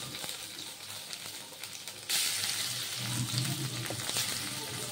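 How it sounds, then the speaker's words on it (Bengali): Paneer pieces frying in hot oil in a pan, a soft crackle that jumps into a loud, steady sizzle partway through and keeps hissing close up, with no talk. "দিয়ে পনিরগুলো ভেজে নেব"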